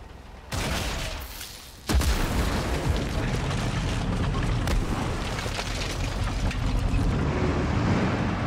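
Explosives detonate in the Sniper Elite 5 video game: an abrupt boom hits after a short lead-in, followed by a second, heavier blast that leaves a sustained rumbling roar of debris and fire, with no one talking.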